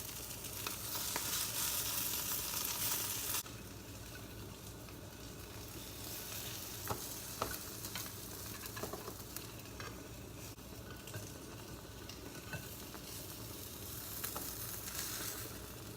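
An omelette sizzles and fries in a pan on a stovetop burner, a steady crackling hiss that is louder for the first few seconds, then settles into a softer sizzle with occasional small pops and stirring sounds.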